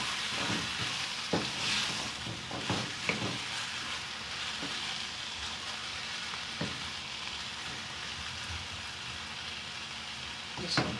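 Chicken curry simmering in a pan with turmeric and salt, a steady soft sizzle throughout with occasional scraping stirs of a spoon against the pan.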